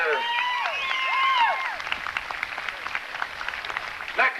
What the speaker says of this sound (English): A round of applause for this dancer.